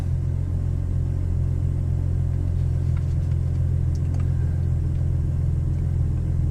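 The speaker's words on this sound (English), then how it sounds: "Car idles right around the mid 50s," Close, steady idle of a Camaro V6 with an MRT version 2 axle-back exhaust: a low, even burble with a faint rhythmic pulse and no revving throughout.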